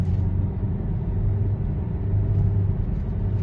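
Steady low road rumble and engine drone inside a moving car, a continuous muffled hum with no talking.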